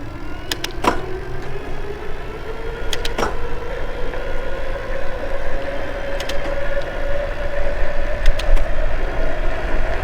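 A 2021 Eunorau G20 electric cargo bike accelerates to 20 while its mechanical gears shift, giving a steady motor whine that climbs in pitch over wind and road noise, broken by a few short clicks.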